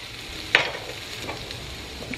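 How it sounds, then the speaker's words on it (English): Sausage fries in a pan for sausage gravy, a steady low sizzle with a brief clatter of stirring near the start and soft scraping afterward. "we're going to start frying up our sausage to make our sausage gravy"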